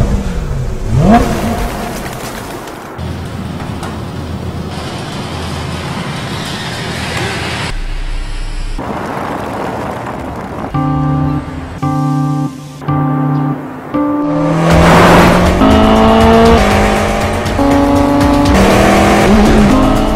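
Hyundai i30 driven hard on European roads, its engine revving and rising through gears with stepped pitch changes, loud and close, joined by road rumble and tire noise.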